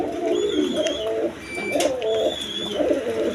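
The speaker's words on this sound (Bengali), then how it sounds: "খামারের কবুতর দেখেন।" Pigeons on a pigeon farm coo close by in repeated low, throaty phrases about once a second, with faint chirps above.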